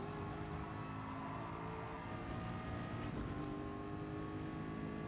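A Ford GT race car engine holds a continuous, moderately loud drone in Gran Turismo, with no voices over it.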